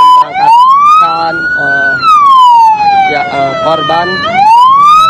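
An ambulance siren wails loudly and close in a rising and falling sweep as the vehicle departs from the scene of a deadly toll road crash, with a reporter speaking over it.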